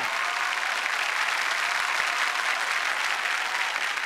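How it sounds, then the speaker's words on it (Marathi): Steady, dense audience applause at a Marathi comedy show, a sustained wash of clapping from a large crowd, loud and even throughout with no talk. "जोरदार टाळ्या"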